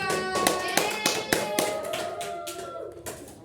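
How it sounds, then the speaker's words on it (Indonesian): A small group claps briefly, sharp irregular hand claps over a few seconds with some voices underneath. "tepuk tangan buat nomor 2"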